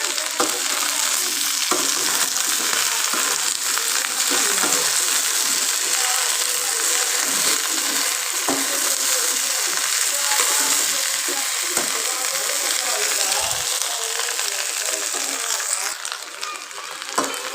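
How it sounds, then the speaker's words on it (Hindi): Okra pieces frying lightly in a pan over a gas burner, giving a steady, close sizzle with faint scraping clicks throughout and no voices. "अभी मैंने बर्नर ऑन कर लिया है और इनको हल्का सा फ्राई कर लेते हैं।"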